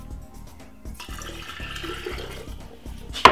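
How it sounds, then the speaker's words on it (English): Water from soaked almonds is strained off, pouring and splashing steadily near the microphone for about three seconds, ending in a sharp knock. "So what we would do is to strain the almond like this"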